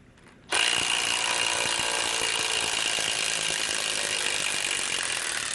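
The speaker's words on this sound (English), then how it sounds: "Just not a problem at all for this impact wrench." A Milwaukee M12 Fuel 3/8-inch impact wrench starts abruptly after a quiet moment and runs steadily at full, loud power for about five seconds with no pause, nearby and alone without talk.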